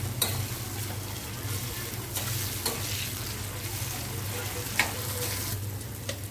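Onion and tomato frying in a pan with turmeric and asafoetida, a steady dense sizzle with occasional scrapes and taps of a stirring utensil, close and continuous.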